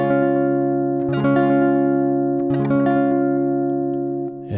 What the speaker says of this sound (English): Then you're going to strum from the 5th string to the 2nd string.